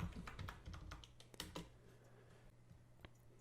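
Typing on a computer keyboard, with quick irregular key clicks in a dense burst at the start, thinning to scattered taps over a faint steady hum; no one speaks.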